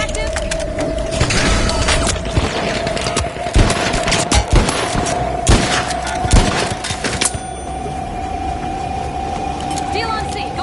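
A Guardian turret firing in the video game The Finals, rapid sustained automatic bursts with sharp individual shots and a steady electronic tone running underneath, with voices talking over the firing.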